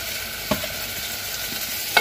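Ground masala frying in a pan with cooked fenugreek leaves for methi pulao: a steady close sizzle with two brief stirring scrapes.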